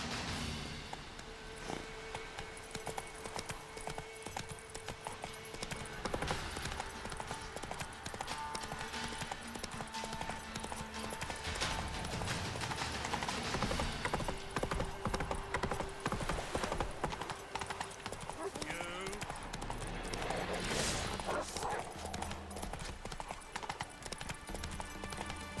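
Roach the horse trots in The Witcher 3, a steady run of hoof clip-clops over layered game ambience and music, with occasional brief snorts and tack sounds throughout.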